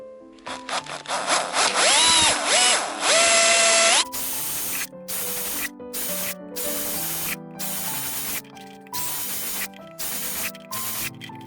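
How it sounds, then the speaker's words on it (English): Loud whirring of a power drill boring holes into the top of a plastic container, in short repeated bursts with pauses between, rising in pitch at first and then boring through in quick on-off runs. "So I'm just going to put a few holes in the top of this container."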